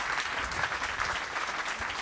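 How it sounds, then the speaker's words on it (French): An audience at a public lecture in Pessac applauds the speaker, a steady, even wash of clapping throughout without any voices. "je pense qu'on peut applaudir François Dubé."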